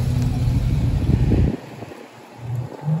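A supercar passing on a Paris street, a loud engine roar that suddenly drops away about halfway through, leaving quieter street noise before a second engine hum rises near the end.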